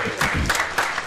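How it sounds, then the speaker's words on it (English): An audience applauding at a 9-ball pool match, Shane Van Boening vs Denis Orcullo: a short burst of brisk, close clapping from a small crowd, with no talking. "Everybody just gave a round of applause."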